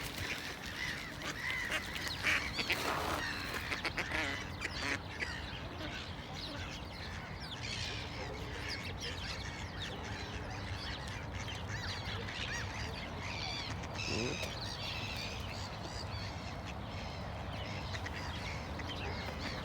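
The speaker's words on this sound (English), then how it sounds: "Different birds fighting over the same food." Birds, seagulls among them, squabble over the same scraps of food outdoors. Faint honking and quacking calls rise and fall over a steady, noisy background for about twenty seconds.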